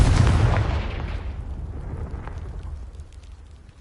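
A Confringo spell in a wizarding video game blasts a pile of debris with a loud, deep booming explosion whose rumble and crackle fade out over several seconds.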